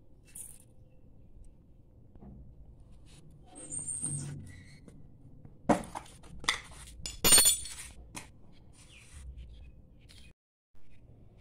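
Radish, carrot and green chilli pickle mixed in a bowl with turmeric, chilli powder, black mustard and fenugreek, with sparse clinks and scrapes of a spoon against the dish between quiet pauses.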